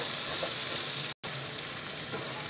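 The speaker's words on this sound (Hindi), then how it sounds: "थोड़ी सी हल्दी डाल देंगे फ्राई करने के टाइम थोड़ा नमक भी डाल देंगे तो अच्छे से मिला लेंगे इसको थोड़ा ही फ्राई करेंगे" Sliced okra fries in a pan with turmeric and salt, giving a dense, even sizzle up close that cuts out for a moment partway through.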